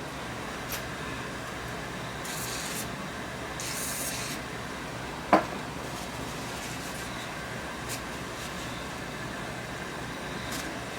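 Cleaner is sprayed onto paper and rubbed over a dirty Toshiba Betamax VCR, with short spray hisses, one sharp click and soft steady rubbing up close, fairly quiet and without talk.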